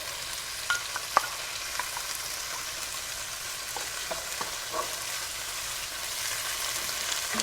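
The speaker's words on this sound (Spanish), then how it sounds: "Y cuando está a media cocción vamos a agregar un ajo picado y lo vamos a sofreír." Chopped garlic sautés in a pan with a steady, moderately quiet sizzle, small crackles and occasional light taps of a utensil, no talking.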